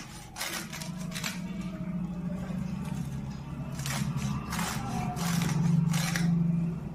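Fenugreek greens being finely chopped for methi saag, a run of repeated crisp cutting strokes at close range over a steady low kitchen hum, with no voices.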